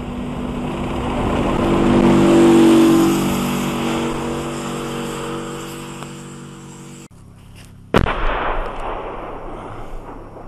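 A vehicle engine drones and swells, then after a brief lull a single sharp, heavy boom of artillery fire cracks out in the war in Ukraine near Debaltseve, followed by a rumbling echo.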